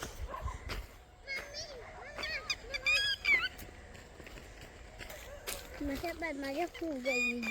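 Shrill, repeated red-wattled lapwing calls ring out in bursts over a busy outdoor background with children's voices and other bird chatter.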